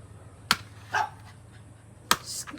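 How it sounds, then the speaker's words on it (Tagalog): A household dog gives two short, sharp barks about one and a half seconds apart, near and fairly loud, with a softer yelp between them over a low steady hum. "Naingay mo yung aso namin eh."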